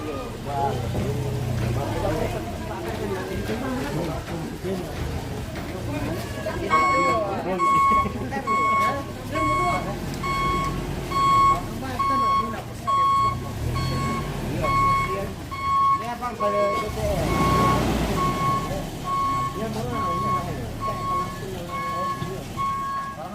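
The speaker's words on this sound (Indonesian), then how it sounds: "Ada mobil, guys. Hati-hati." A car passing in a village during a funeral ceremony gathering, with engine noise and a steady repeating electronic reversing beep running through the middle, under ongoing talk from people nearby.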